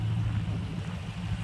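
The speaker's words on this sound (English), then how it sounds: "Okay, so this is the car running." A 1971 Rover P5B 3.5 Coupe sits with its engine running at a steady idle, a low, even rumble heard close by with no other sounds over it.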